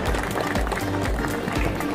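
A crowd applauds at the inauguration of the Rachana 2024 housing exhibition in Maharashtra, where state ministers are opening the event. Dense, steady clapping fills the whole two seconds, with a low murmur underneath.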